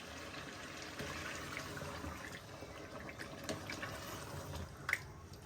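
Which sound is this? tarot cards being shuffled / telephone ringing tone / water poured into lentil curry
water poured into lentil curry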